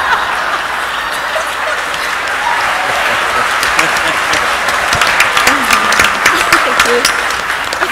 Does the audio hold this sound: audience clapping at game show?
yes